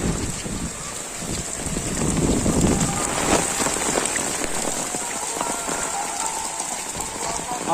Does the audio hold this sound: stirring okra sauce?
no